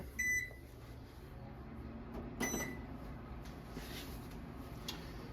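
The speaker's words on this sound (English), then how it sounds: "I'm going to throw it in the Sonic Cleaner. Flip that on real fast, get it heated up" An ultrasonic cleaner used for a Conn 8D horn is switched on, giving a few quick electronic beeps, a click, then a low steady hum, all faint and close.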